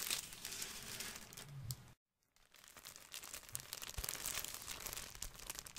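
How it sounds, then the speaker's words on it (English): Plastic packaging of sheer tights crinkles close up in soft bursts, a short silent gap in the middle, then more rustling and crackling. "But they do make nice crinkling sounds."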